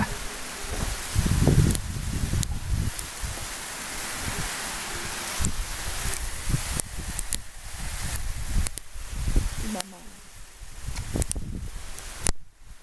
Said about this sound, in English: Hail on your head.